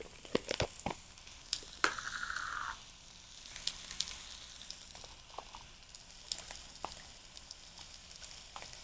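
Chopped onions and garlic sizzle softly in a pan, a quiet crackling fry with scattered sharp clicks and taps from stirring, close by, without voices.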